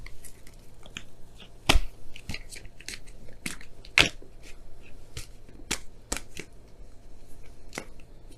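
Oracle cards are shuffled and handled at close range, giving sharp, irregular snaps and crisp slaps of card stock separated by short pauses against a quiet background.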